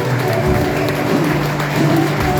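A church congregation claps during worship, broad steady applause blending with sustained music or singing, fairly close and continuous with no clear pauses.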